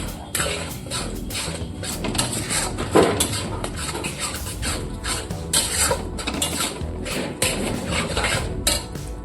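Spices for a chicken and potato curry are stir-fried in a pan, with a metal spoon scraping and clinking repeatedly against the pan in an irregular, busy rhythm, close and fairly loud.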